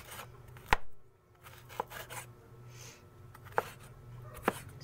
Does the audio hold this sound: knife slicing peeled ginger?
yes